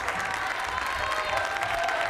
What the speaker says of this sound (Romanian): Aplauze pentru Urban Kids!